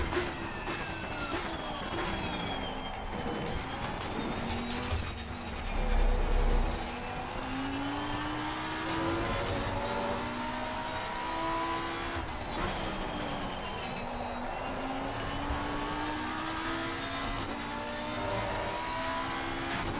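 BMW race car engine in Assetto Corsa Competizione, a steady loud drone with rising and falling harmonic sweeps as it revs through gears, continuous for the whole stretch with no talk.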